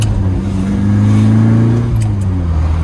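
A Lotus Elan restomod on an open road, its engine revving steadily with a strong low hum that swells and holds, continuous and close.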